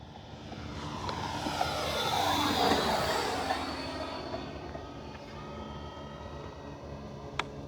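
FMS T-28D Trojan 1.4 m RC model airplane at half throttle, its electric motor and propeller producing a steady whine that swells as it passes nearer around the middle and then fades slightly, with no voices.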